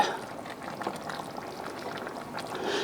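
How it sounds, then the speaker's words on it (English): Taco spaghetti boiling in a pot, a soft steady bubbling and gurgling of liquid, close and fairly quiet, with scattered small pops throughout. "So my taco spaghetti is boiling."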